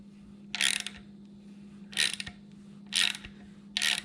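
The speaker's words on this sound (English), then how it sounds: "take our 16mm socket and start tightening this center piece" A 16mm socket ratchet tightens the center bolt of an OTC 7834 rear main seal installer on a Ford 4.0 V6. Four short, loud ratcheting bursts come at regular intervals over a steady low hum.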